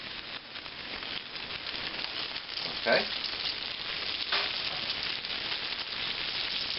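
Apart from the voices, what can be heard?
veal cutlet sizzling in a pan on medium-high flame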